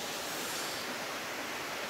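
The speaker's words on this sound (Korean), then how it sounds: "지금 여기 폭포에서부터 쭉 저쪽으로 차박할 수 있는 데까지 쭉 물이 흐르고 있습니다." Steady broadband rush of valley stream water flowing down from a waterfall toward a car-camping area, continuous and fairly close with no breaks, no talk over it.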